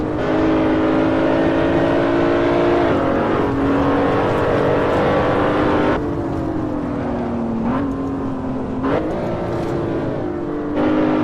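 A BMW Z4 engine in a racing video game on the Nordschleife, revving loudly and continuously with repeated downshifts and rising pitch between gear changes, alone with no talk.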